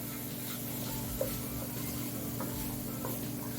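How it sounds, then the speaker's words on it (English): Saltfish frying and being stirred in a pan for stir-fried callaloo, a faint steady sizzle with soft scraping stirs throughout, no voices. "I love my saltfish to fry a little."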